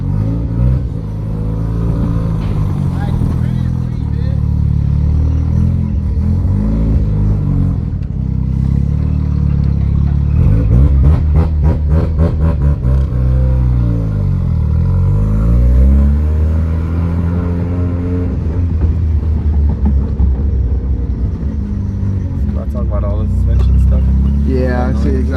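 Modified car engine revving and accelerating hard on its first road drive straight off the dyno, a loud continuous drone that rises and falls in pitch through several gear pulls, heard from inside the car.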